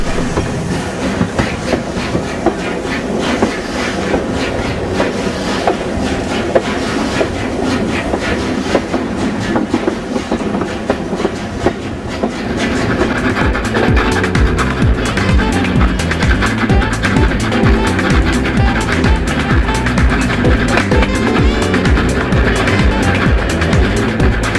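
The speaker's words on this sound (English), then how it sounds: "gazing on at the lovely locomotive" Locomotive-hauled train passing on the West Somerset Railway near Crowcombe Heathfield, loud continuous rumble with rhythmic clickety-clack of wheels on rail joints, intensifying in the second half as the carriages roll by close.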